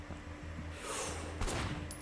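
Gunfire in the Sleeping Dogs video game: a sustained burst of shots rattles along under a steady background hum, with a sharper, louder crack near the end.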